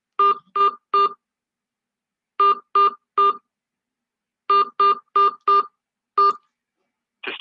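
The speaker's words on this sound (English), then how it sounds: "Please enter your host PIN. When finished, press the pound key." Telephone keypad tones punch in a PIN on a conference call line: clear, evenly spaced DTMF beeps in groups of three, three and five, then a lone tone, loud and close with silence between.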